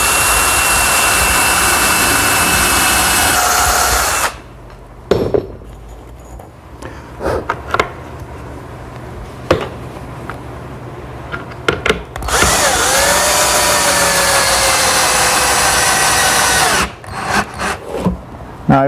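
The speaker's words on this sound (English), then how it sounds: "I'll pre-drill 2 holes for those special fasteners that we used" Power drill pre-drilling holes in wooden laundry bins in a woodworking shop, two loud sustained whirring runs of several seconds each, close up, separated by quieter handling clicks and knocks.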